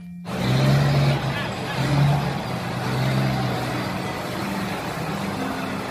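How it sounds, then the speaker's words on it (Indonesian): Toy mining truck engine sound effect: a loud, close rumbling motor with a low engine tone that rises and falls in a few surges, running continuously for several seconds. "Wow, lihat. Ada mobil truk tambang."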